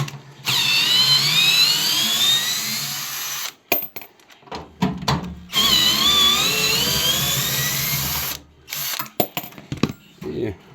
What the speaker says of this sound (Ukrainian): Далі відкручуємо два винта.